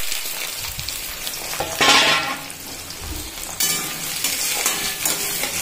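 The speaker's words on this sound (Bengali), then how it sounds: "পেঁয়াজটা ভাজা হয়ে যাবে" Onions fry in oil in a pan while chicken is being cooked, giving a steady sizzle with bursts of louder crackling and occasional scraping of a spoon stirring against the pan.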